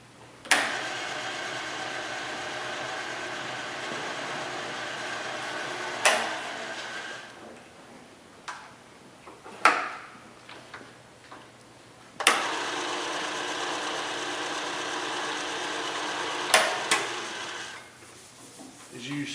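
A 1 horsepower Bridgeport vertical milling machine with a 42-inch table, wired for 220 volts, runs with a steady mechanical hum that shifts in pitch between segments, with sharp clicks at each change and a quieter stretch in the middle.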